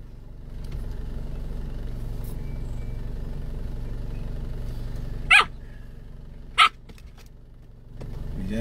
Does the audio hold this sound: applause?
no